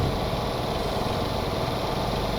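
Turbocharged diesel locomotive engine of a Metra F40PH-3 in the game Stormworks, with two large turbochargers; a steady, dense droning rumble with a constant whine on top, running alone without pauses.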